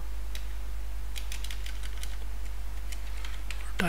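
Close, steady keystrokes on a computer keyboard tap out a short burst of typing in an uneven rhythm over a low, constant electrical hum, with no voices.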